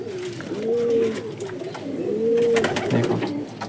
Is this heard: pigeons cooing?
yes